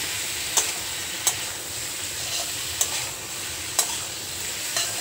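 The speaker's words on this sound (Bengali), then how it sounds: "এবার আগের থেকে ভেজে রাখা আলু আর কচুগুলো দিয়ে মশলার সাথে খুব ভালো করে মিশিয়ে নেব।" Fried potatoes and taro are stirred into spices sizzling in a pan for a vegetarian taro dish, with steady frying hiss and five or six sharp scrapes of the spoon against the pan at uneven intervals.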